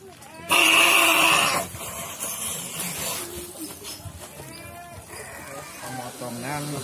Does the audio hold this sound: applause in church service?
no